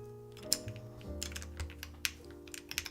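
Keys clack on a freshly reassembled mechanical keyboard, with irregular sharp clicks and a few quick flurries heard up close over a low steady hum.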